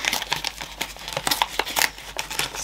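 A sticky paper envelope being torn open, a quick run of close crinkling and ripping paper noises, fairly quiet and without talk.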